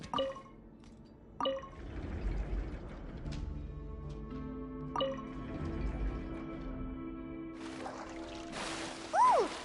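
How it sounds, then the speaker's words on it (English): Water rising in a flooded chamber in the video game Genshin Impact, heard as trickling, dripping water with tonal, ringing game-effect hums and a few soft knocks, ending in a brighter swell. "The water level's gone way up!"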